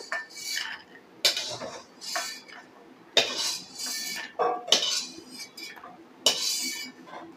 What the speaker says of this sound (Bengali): প্লেটে বড়িগুলোকে তুলে নেব